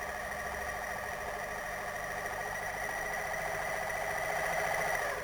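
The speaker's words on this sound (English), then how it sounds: "With the machine set for flat locking, fold the hem allowance over twice to the wrong side of the fabric. Sew along the fold." A My Lock 503 overlock machine set for flatlocking runs steadily as it sews a folded hem along the fabric, giving a continuous, even mechanical whir with no pauses and no voices.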